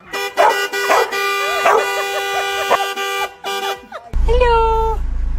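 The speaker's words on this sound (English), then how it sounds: "Hey, you don't growl at me." A puppy barks and growls in a string of short yaps and snarls over a steady, honking horn-like tone, ending in a louder, rumbling burst.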